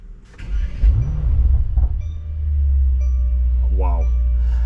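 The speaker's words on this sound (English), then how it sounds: "Let me also show you a sound check of this car here." A Mercedes Kugel S600 with over 600 horsepower, running in Sport Plus mode, fires up with a sharp crank and then settles into a deep, steady idle, heard close and loud with a brief rev partway through.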